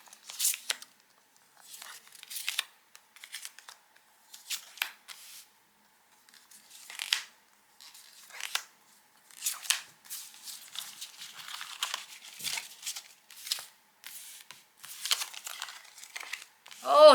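Tarot cards being drawn and handled, giving irregular papery rustles and crinkly slides in scattered bursts with short silent gaps, close and fairly clear.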